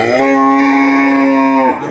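A bull lows once, a long, loud, sustained tonal moo held close for most of the moment before breaking off, with no other sounds around it.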